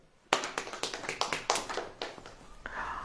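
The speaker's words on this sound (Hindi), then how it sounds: "ताली बजाएं" Congregation clapping hands at a church service: a sharp burst of rhythmic claps, roughly a dozen quick strikes, loud and close, fading into a softer smeared patter at the end.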